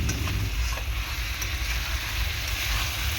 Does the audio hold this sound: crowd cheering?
no